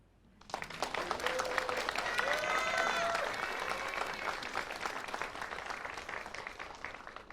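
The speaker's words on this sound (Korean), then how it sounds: "다시 한번 무대를 준비한 마니또 친구들에게 박수 부탁드립니다." Audience at a youth group's stage performance showcase breaks into applause that swells within a second and holds steady, a dense wash of many hands clapping, fairly distant and moderate in level.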